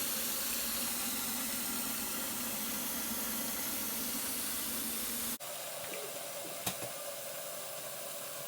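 Tap water running through a household water meter, a steady broad hiss that cuts off abruptly partway through, followed by a quieter flow and a brief click.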